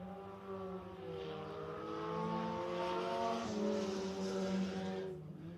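USRA tuner Hornet class race cars at Big O Speedway, engines buzzing in a harmonic drone that rises and shifts pitch as one slides over the hill, moderately distant, with no talk.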